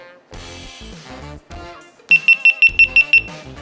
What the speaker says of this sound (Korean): 와 소리 크네요 삐삐삐삐 요 소리가 꽤나 크네